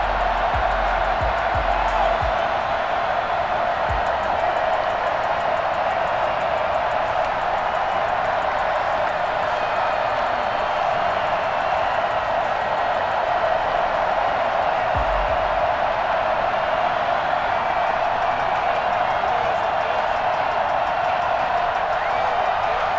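In Madden 21, a sold-out Buffalo stadium crowd cheers for a Colts–Bills AFC Wild Card game. The dense, steady roar of the distant crowd runs unbroken throughout, with a few low thumps early on and midway.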